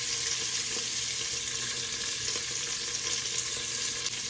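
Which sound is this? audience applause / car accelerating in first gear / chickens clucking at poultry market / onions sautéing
onions sautéing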